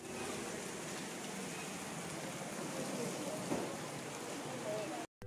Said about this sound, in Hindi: देखो कुदरत का करिश्मा, बारिश दे दिया भाई